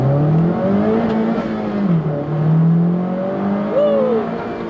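A 2016 Honda Civic Type-R pulls away from a traffic light, its engine note rising, dipping briefly and climbing again, heard loud from inside the cabin.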